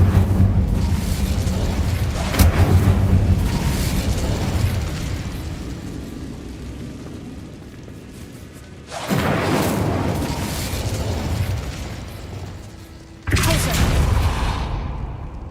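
Incendio fire spell blasts in Hogwarts Legacy, loud fiery bursts and whooshes that come in waves, with a strong surge near the start and sudden new blasts later, alone with no talk.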